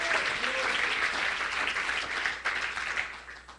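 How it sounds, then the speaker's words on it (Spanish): A church congregation applauds during a Spanish-language sermon, dense sustained clapping from a crowd in a hall, fairly close and even throughout. "démosle un aplauso al Señor"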